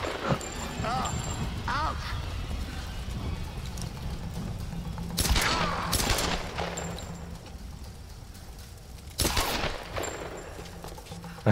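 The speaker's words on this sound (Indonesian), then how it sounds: "Oh, kita bakal tembak-tembakan." Gunfire in a Tomb Raider shootout: sporadic bursts of shots ring out over steady game ambience, with two sharp volleys standing out amid the background noise.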